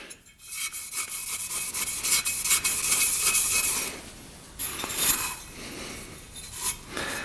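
Abrasive scuffing of a 400cc dirt bike piston surface to clean it, a close, steady rasping rub with short breaks in the strokes.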